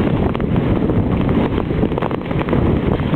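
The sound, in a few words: strong wind blowing during a snowstorm walk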